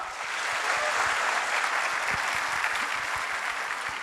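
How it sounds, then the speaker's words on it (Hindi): Audience at an SEO masterclass event claps warmly to welcome the speaker, a steady, full burst of applause with no talk, holding even for the whole stretch. "तो आप सबकी भरपूर तालियों में इस्तकबाल कीजिए"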